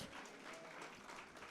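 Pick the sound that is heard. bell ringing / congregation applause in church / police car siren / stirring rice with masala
congregation applause in church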